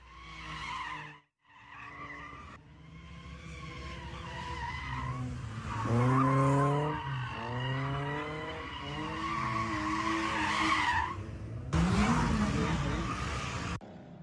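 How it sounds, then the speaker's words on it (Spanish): Cars in an illegal street race in Málaga, caught on police footage: tires skid and squeal loudly in long sweeping bursts while engines rev. Brief faint voices are heard between the screeches. "imágenes de la Policía Local de Málaga que corresponden a una de las últimas carreras ilegales"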